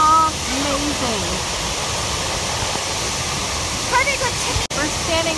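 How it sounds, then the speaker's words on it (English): A waterfall in Sequoia roars as a steady, broadband rush of falling water heard from close by, with voices talking over it. "Look at that waterfall."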